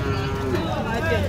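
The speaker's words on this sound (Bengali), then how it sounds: "সুন্দর কোয়ালিটির গরু।" A cow moos at a busy cattle market where Sahiwal bulls are sold, a close, loud, sustained low call over the crowd's background din.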